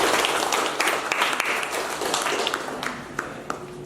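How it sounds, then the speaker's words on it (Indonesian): A class bursts into dense, lively applause after a presentation on motion-graphics animation, sharp individual claps standing out in the crowd before it tapers off slightly. "Tepuk tangan sekali lagi untuk kalian semuanya."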